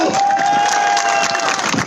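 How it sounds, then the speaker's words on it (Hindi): A rally crowd in Ambala cheers and claps loudly and continuously, a dense roar of applause and shouting voices that fills the whole stretch with no break. "ठोको ठोको ताली ठोको।"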